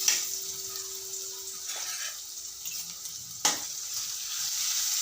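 Crushed garlic, about a teaspoon, sizzling in hot oil for a potato and drumstick curry, a steady frying hiss throughout with a brief clink near the middle and another around three and a half seconds.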